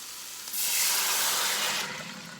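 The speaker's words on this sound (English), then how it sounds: "I'm gonna go ahead and add some water in here." Water poured into a hot pan of chicken and seasonings, a rushing hiss that swells abruptly and holds steady for over a second before easing, close and moderately loud.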